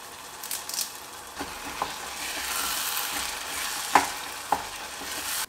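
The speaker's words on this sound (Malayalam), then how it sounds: "കുറച്ച് കറിവേപ്പില ഇട്ട് കൊടുക്കുകയാണ്." Curry leaves drop into a pan of vegetable kuruma, setting off a steady, swelling sizzle with soft stirring and a few sharp pops and clinks rising above the frying.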